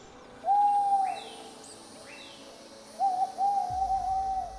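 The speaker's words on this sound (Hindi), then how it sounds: "बंटी ने बताया कि ये उल्लू की आवाज़ें हैं।" Owls hoot in a dense forest, two long wavering calls heard a few seconds apart. A fainter swooping call sounds in the background and there is a low rumble near the end.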